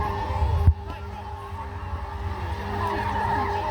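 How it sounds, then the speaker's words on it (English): A stunt car at a castle show skids and rotates around a locked front wheel, giving a sustained tyre scrub over a low engine rumble, with a sharp thump early and someone talking over it. "he's rotating that car around that part of the tyre"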